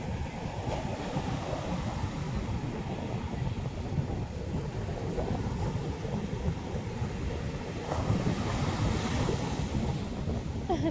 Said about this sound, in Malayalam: ഈ തിരമല വരും